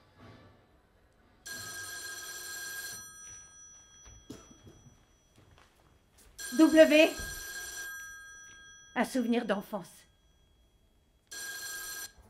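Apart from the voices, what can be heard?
telephone bell ringing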